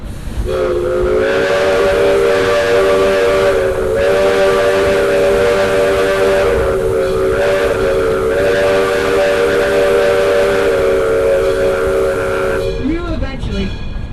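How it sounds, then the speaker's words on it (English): A loud, sustained steam train whistle at Roaring Camp in Felton, California, blows for over ten seconds with a rich harmonic tone, then cuts off into rumbling and hiss. "That's why he cut me off with a whistle."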